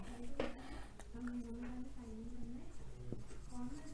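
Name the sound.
writing during a lesson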